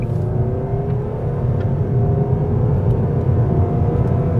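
A 2024 Nissan Sentra SR accelerating on a road, its engine note rising steadily in a smooth pull with tire and road rumble underneath, close and continuous.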